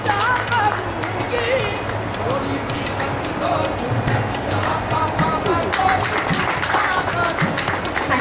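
Audience applause at a Vishwakarma Puja celebration, steady clapping from a gathered crowd with background chatter, lasting the whole stretch and swelling slightly near the end.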